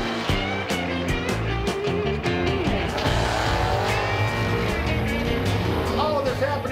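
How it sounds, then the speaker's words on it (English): Cars at a quarter-mile drag strip, Cordova Dragway Park, with loud engines revving and roaring continuously close by, amid a dense mix of music and background noise. "This is Cordova Dragway Park, where locals come to drive in their own cars in a straight line as fast as they can go."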